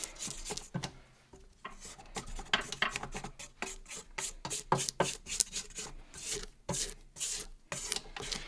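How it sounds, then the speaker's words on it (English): A spatula scrapes the bowl and mixes thick cookies and cream brownie batter in a run of soft, irregular rasping strokes and taps, close and quiet, with no talking. "we're just gonna give everything a scrape down and give it one final mix"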